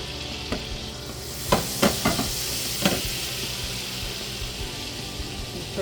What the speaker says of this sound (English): We're going to let that butter melt.